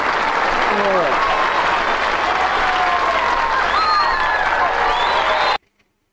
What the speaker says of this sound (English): Let's get some applause too